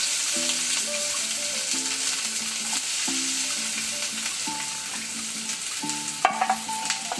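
Chopped onion frying in a little white oil for chicken and vegetable momo filling, a steady sizzle with repeated scraping stirs of a spatula against the pan, close and continuous with no talking.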